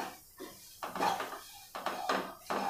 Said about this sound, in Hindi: उसको अभी चलाते रहना है।